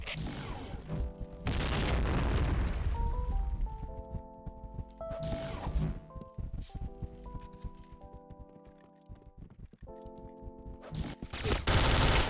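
A grenade blast in a shooter video game set among dense game noise, with heavy booming bursts and scattered gunfire-like cracks over a steady din, tonal game sounds weaving through the middle and a final loud burst near the end.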